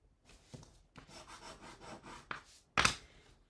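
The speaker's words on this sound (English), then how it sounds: "So we're going to burnish our 2 pieces of cardstock." Cardstock burnished along a raised fold line in a card-making session, heard as soft scraping and rubbing strokes with a few sharper scuffs and a brief louder swipe near the end.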